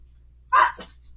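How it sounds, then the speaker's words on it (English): A dog gives one short, fairly loud bark followed by a softer second yelp, close by over a quiet low hum. "My dogs like to make noise too."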